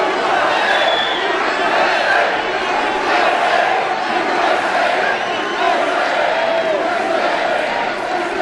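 Large rally crowd in Wisconsin at a Donald Trump event cheering and shouting continuously, a loud dense roar with chanting voices that holds steady throughout.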